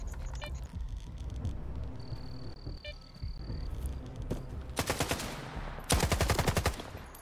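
Gunfire in the video game S.T.A.L.K.E.R. 2, with rapid automatic bursts of sharp shots, the last burst loudest, over a low ambient hum and a brief tonal whine.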